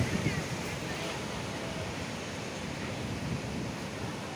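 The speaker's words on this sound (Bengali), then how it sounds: "সমুদ্র আজকে প্রচণ্ড হাওয়ায় উত্তাল হয়ে গেছে" Rough Bay of Bengal surf at Digha beach at night rolls in a continuous roar, mixed with strong gusting wind buffeting the microphone, steady and fairly loud with no distinct break between waves.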